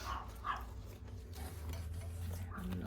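A puppy barks somewhere in the room: three faint, short yips, two near the start and one near the end, over a low background hum.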